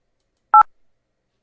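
A single short telephone DTMF dialing tone beeps once, clear and isolated, as a call is being reconnected.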